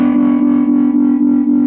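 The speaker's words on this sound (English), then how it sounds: "So the same thing is happening automatically with this tremolo pedal." Electric guitar run through a tremolo pedal with overdrive sustains a steady distorted note that pulses rhythmically about four times a second, swelling in volume and grit with each cycle; loud and alone with no talking.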